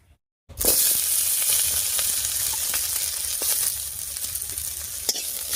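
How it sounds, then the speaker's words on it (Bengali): Chunks of ginger, garlic cloves and green chilies stir-fried in oil in a kadai, a loud, steady sizzle that bursts in after a brief silence, with occasional stirring clicks. "আদা রসুন লঙ্কাটা একটু নাড়িয়ে নিলাম"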